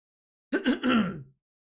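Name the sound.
throat clearing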